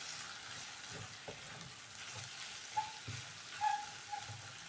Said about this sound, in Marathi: एकदम स्लो गॅसवरती आपण भाजी शिजायला ठेवलेली आहे.